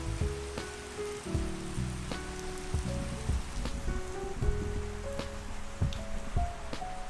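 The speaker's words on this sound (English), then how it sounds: "raining." Steady rain patters and drips on surfaces in California, a constant near hiss with scattered sharper drop hits and no talking.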